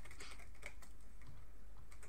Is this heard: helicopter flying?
no